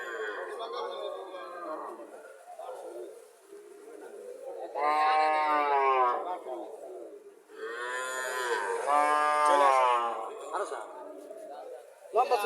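Friesian dairy cattle and calves on a farm give two long, loud, drawn-out moos, one after the other, with quieter lowing and background sounds in between.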